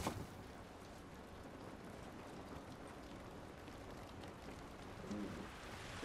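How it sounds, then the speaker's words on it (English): Soft, steady rain in the video game The Last of Us Remastered patters continuously at low volume, a quiet even hiss with no voices over it. "This rain ain't gonna do us any good."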